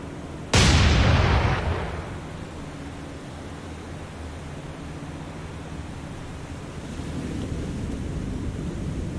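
A heavy naval gun salvo booms out in War On The Sea during Operation Watchtower, fired from warships such as San Diego. The loud, close blast rolls into a long decaying rumble over steady background noise, with no talking.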